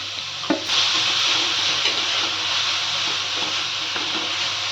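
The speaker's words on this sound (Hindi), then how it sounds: "ऐसे हम इसे डाल के इसमें भूनते हैं थोड़ी देर।" A coconut, sugar and cardamom mixture sizzles and hisses steadily as it roasts in a pan, with a brief scrape as it is stirred at the start and no talk.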